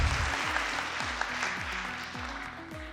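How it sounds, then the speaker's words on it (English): An audience at an agricultural conference applauds the keynote speaker, a broad, continuous wash of clapping that gradually fades, with a repeating low tonal pattern underneath. "a big round of applause"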